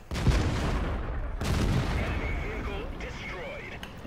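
A Black Prince heavy tank's cannon fires in World of Tanks, two deep booming shots about a second apart with rumbling decay and mechanical game noise afterward, loud and close.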